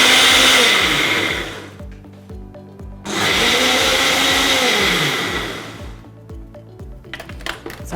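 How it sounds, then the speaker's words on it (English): A blender whizzes a quinoa pizza base mixture, loud and steady, in two long bursts with a brief pause between them and pitch shifting as the blend thickens, then falls quiet at the end. "And then we whiz it until it's nice and smooth."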